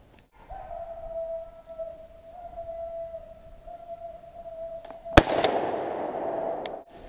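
One loud, close shotgun blast on a rabbit hunt with beagles on a farm, cutting through a long, steady tone and trailing off in a noisy rumble.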